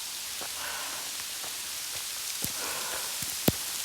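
Hail patters on a trail during a run, a steady fine crackle of small impacts with a few sharper, louder hits near the end, and no talking.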